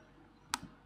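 A single sharp computer mouse click, close and fairly loud against a quiet room, with a faint softer release click just after and no talk.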